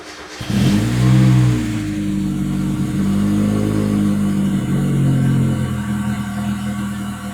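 A Mazda Miata engine, freshly fitted with a Megasquirt ECU, custom intake and NB throttle body, cranks and fires, then runs with a strong rev that settles into a steady, loud idle close by.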